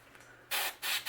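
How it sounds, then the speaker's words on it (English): Aerosol spray paint hisses in three bursts onto a crankbait lure shell through a stencil, the first burst long and steady, followed by two shorter puffs with brief pauses between. "And spray another shell."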